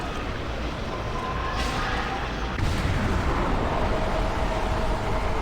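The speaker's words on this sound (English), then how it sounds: "Alright, so let's equip our rocket launcher." A rocket launcher fires in Doom 3 BFG Edition, set in a hellish area: a heavy, rumbling blast erupts over a constant loud roar, leaving a dense booming tail.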